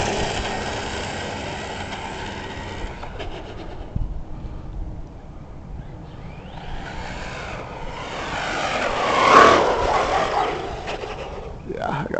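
A Helion Avenge 10MT XLR radio-controlled monster truck running on a newly swapped ESC, its electric motor whining continuously and swelling to a louder, higher-pitched rush near the end, with broadband outdoor noise throughout.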